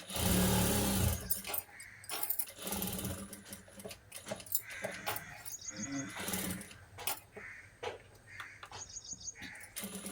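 A sewing machine stitches a blouse collar in a run of rapid mechanical stitching bursts with short pauses between them, fairly close and steady.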